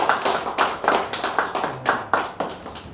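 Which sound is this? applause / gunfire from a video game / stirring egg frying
applause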